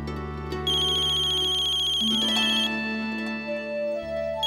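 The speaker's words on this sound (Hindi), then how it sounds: "आप ही उठाओ, अनन्या दीदी का होगा।" A telephone ringtone rings steadily in a home, a melodic electronic tone looping for several seconds at moderate loudness, with no talking over it.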